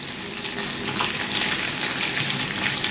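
Beaten eggs mixed with milk fry in a hot pan with a steady, close, loud sizzle and crackle that continues without a break, with no voices.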